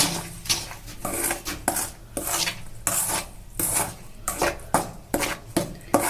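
A spoon scrapes and rubs through dry gram flour, carom seeds and asafoetida in a bowl for coriander leaf pakora batter, making close rhythmic scraping strokes with clinks against the bowl and short pauses between them.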